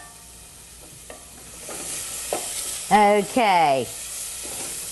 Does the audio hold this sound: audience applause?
no